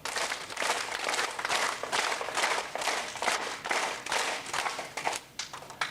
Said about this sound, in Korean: 건강 박수는 두 손을 넓혀서 힘있게 부딪히는데 지금부터 10번 하겠습니다.